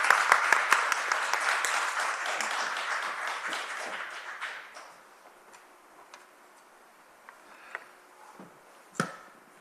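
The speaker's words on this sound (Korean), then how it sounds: "큰 박수로 부탁드립니다." Applause from a conference audience greeting a mayor as he comes up to speak, dense clapping at first that thins and fades out over several seconds, leaving a quiet hall with a few scattered knocks.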